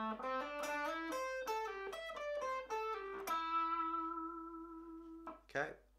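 An electric guitar plays a run of quick picked notes from the solo, bending up into a long held note that rings, then a short scrape of the strings at the end; no talk over it.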